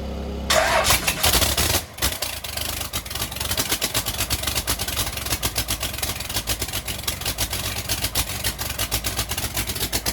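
A cold 1953 classic steel-hulled boat engine cranks and catches, then settles into a loud, close, rapid loping idle with one brief stumble early on. It runs steadily throughout with no voices.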